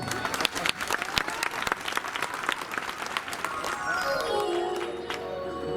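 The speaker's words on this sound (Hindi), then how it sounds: "एहिके लेल एगो जोरदार थपड़ी" Sustained applause and clapping from the audience at a live Maithili stage show, a dense wash of hands that holds steady before easing off under a lingering musical tone.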